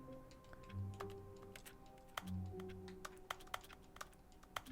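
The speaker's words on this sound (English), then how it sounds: "How come I'm like pressing A and making sounds like I'm typing on something" Typing from a first-person video game: a run of irregular keyboard clicks and taps at moderate volume over a low background hum, with no talking.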